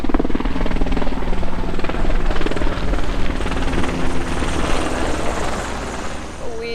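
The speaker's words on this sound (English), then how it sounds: "And there's a military helicopter that's about to fly over us." A military helicopter passes overhead near a sailboat in Chesapeake, its loud, steady rotor chop filling the air close by and easing slightly toward the end, with faint talk underneath.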